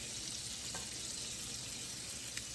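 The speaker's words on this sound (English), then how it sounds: "So we're going to throw some onions in there." Chopped onions sizzling in a hot pan at the start of a pumpkin and mushroom risotto, a steady, even hiss of frying with faint stirring clicks and no voices.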